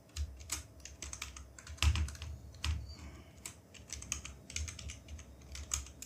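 Typing on a computer keyboard sounds up close and quiet, irregular bursts of crisp key clicks with a few heavier taps and brief pauses, no voices.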